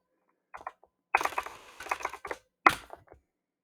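Typing on a computer keyboard, clicking keys in quick bursts and a fast flurry of keystrokes, close and clear with no talking.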